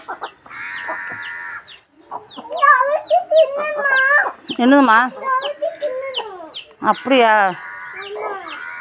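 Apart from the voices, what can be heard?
rooster chicken clucking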